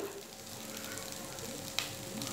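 Sabudana khichdi sautéing in a pan gives a faint, steady sizzle with a single sharp click partway through.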